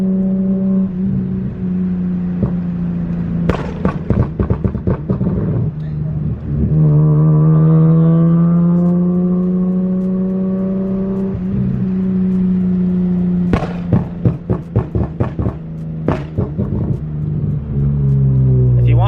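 An Infiniti Q50 with a popcorn exhaust map revs above 3,000 RPM, a loud close engine drone rising and holding, broken by bursts of sharp crackling pops as the throttle lifts.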